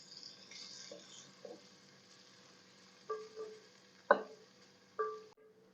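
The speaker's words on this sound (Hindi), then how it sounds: "प्याज को इतना फ्राई करेंगे कि इसका कलर लाइट गोल्डन हो जाए" Sliced onions fry in a pan for aloo gosht until light golden, giving a soft, steady sizzle with a few sharp clicks and scrapes of stirring scattered through; no one speaks.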